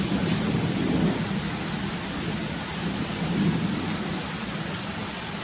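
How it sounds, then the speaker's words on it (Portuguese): Heavy rain pours steadily over Vila Regina, Itaquera, São Paulo, in a dense, unbroken hiss, with no voices over it. "Está chovendo forte."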